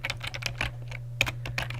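Rapid, irregular clicks of typing on a computer keyboard, close and clear, with a low steady hum underneath.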